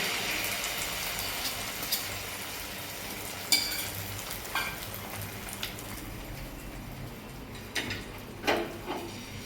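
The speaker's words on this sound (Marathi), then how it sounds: "आता आपण दुसरं ऑमलेट बनवून घेऊया" An egg masala omelette fries in a pan with a steady, soft sizzle, close by, broken by occasional light clinks of a utensil against the pan.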